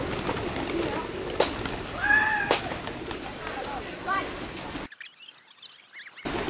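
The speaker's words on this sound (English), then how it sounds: "I've never seen so many pigeons." A big flock of pigeons coos in soft, repeated calls at a Buddhist temple in Chiang Mai, Thailand, fairly close amid busy outdoor background noise, with a brief quiet gap near the end.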